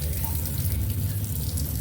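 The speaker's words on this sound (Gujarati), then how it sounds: "મસ્ત મજાના ઝાડવાને પાણી પાઈ રહ્યા છીએ" Water pours steadily from a hose or vessel onto trees in a village yard, a continuous close gushing and splashing with no pauses.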